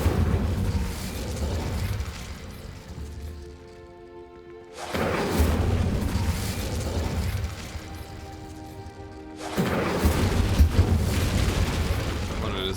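Bursts of magical fire from the Incendio spell in Hogwarts Legacy, three loud whooshing, crackling blasts separated by brief quieter gaps with a faint tonal hum beneath.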